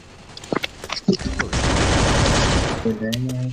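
Sustained bursts of rapid video-game gunfire, starting with a few scattered shots and building into a dense, loud volley, with brief tonal game effects at the end.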